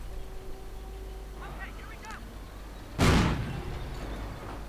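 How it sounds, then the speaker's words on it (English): In a war video game, a single mortar shot fires with a sharp, loud boom that decays into a rumble, heard over low ambient game noise. "Mortar firing still."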